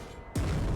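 An enemy explodes in the video game Jotun, a sudden deep boom that cuts in after a short quiet stretch and rumbles on to the end.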